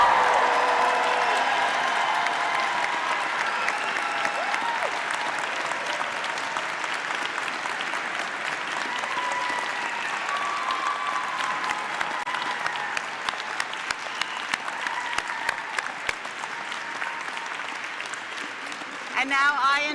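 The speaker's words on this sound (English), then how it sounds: "please join me in applauding the June 2026 graduates." A large convocation crowd applauds June graduates, sustained broad clapping with scattered cheers lasting throughout, while a voice briefly calls out near the end.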